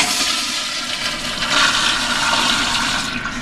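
A 2009 Gerber toilet fitted with a Flushmate 503 pressure-assist unit flushes with a loud, steady forceful rush of water, close by and alone, lasting throughout.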